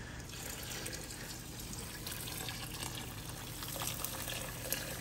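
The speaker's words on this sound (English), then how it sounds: "I like adding hot water to it" Hot water runs into a large pot of New Orleans-style gumbo, a steady close splashing stream with a faint spattery edge lasting the whole stretch, with no one talking.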